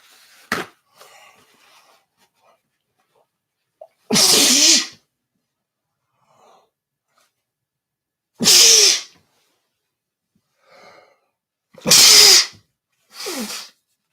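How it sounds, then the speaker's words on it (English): Four loud, forceful sneezes burst out one at a time with long quiet gaps between them, close to the microphone, with faint breathing in between. "that is some serious sneezes"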